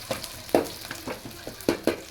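Chopped tomato is stirred into gobi manchurian in a hot pan: quick scraping strokes of a spoon, about seven in two seconds, over a soft sizzle, close and clear.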